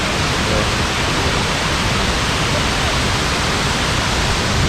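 Kuang Si waterfall in Luang Prabang, Laos, roars as a steady, dense broadband rush of falling water that holds constant and loud from start to finish with no breaks.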